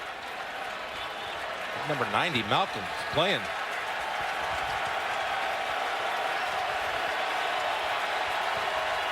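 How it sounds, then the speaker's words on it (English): Texas fans fill a football stadium during the 2014 Oklahoma vs. Texas game with a steady, distant crowd roar beneath a commentator's brief spoken line. "most of that crowd noise you hear is coming from the Texas fans"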